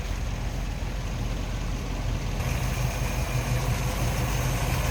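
A 1957 Plymouth Belvedere convertible's 318 V8 idles smoothly under an open hood, a steady, even low rumble heard up close with no talking.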